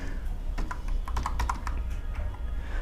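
A few quick keyboard keystrokes tap out a short Python print command, heard close against a steady background hiss with no talking.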